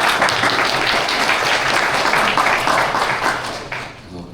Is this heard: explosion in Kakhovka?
no